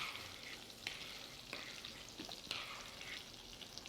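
A thin branzino fish fillet frying in a pan gives a quiet, close sizzle with soft crackles and a few sharper pops spread evenly across the short stretch.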